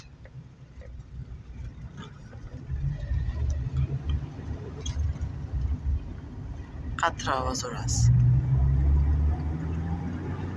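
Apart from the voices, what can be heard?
Daewoo Nexia 2500 car engine running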